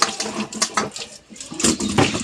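Potatoes being washed by hand in a kitchen, giving a steady, close jumble of knocking, rattling and splashing with a few louder surges near the end.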